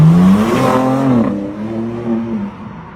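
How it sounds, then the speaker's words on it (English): A sports car with a 3-litre twin-turbo straight-six engine, 510 horsepower in competition form, drives past with a loud, steady engine note that swells and shifts pitch as it accelerates, then settles slightly. "So this car has a 3-litre twin-turbo straight 6 engine with 510 horsepower for the competition version."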